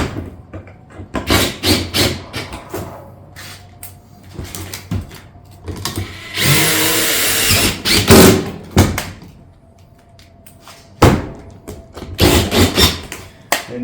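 Power drill driving fasteners into metal roof panels along a valley, a series of loud short whirring bursts and clanks, with one longer drilling run in the middle, interspersed with knocks and quieter pauses.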